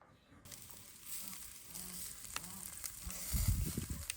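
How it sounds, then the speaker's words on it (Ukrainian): Steady sizzling of marinated onions frying in a hot pan, close and continuous, with a few stirring clatters toward the end. "Я цибульку, яка маринована, швиденько на сковорідці піджарю"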